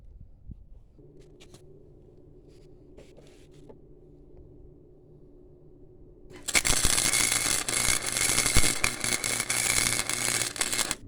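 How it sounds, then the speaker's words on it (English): Tack welding on the seams of a motorcycle frame starts with a few faint clicks over quiet hum, then a loud, harsh, continuous crackling arc takes over for the last several seconds, close and dense. "A little bit better tack welds on these seams real quick."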